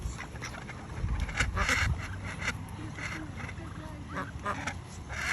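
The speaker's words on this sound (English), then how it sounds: "Decided to come for a little walk and to feed the ducks." Ducks being fed by hand at a pond quack in short, scattered bursts at moderate distance, faint overall, with people talking in the background.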